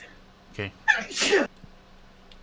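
A single sharp sneeze from a person at a tabletop role-playing game, a short wet burst close to the microphone, preceded by a brief spoken word and followed by quiet.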